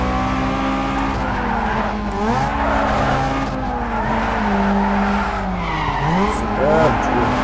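A car drifts in the Need for Speed Underground 2 racing game, its engine droning steadily under long wavering tire squeals that rise and bend through the turn, loud and continuous, with a voice speaking briefly over it.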